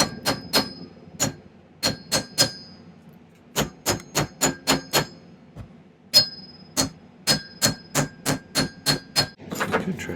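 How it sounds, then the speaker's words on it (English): A chasing hammer strikes metal during silversmithing of an opal Art Deco pendant, ringing out in crisp, close, metallic taps, often in quick runs of several blows with short pauses between groups. "I'm going to take my chasing hammer"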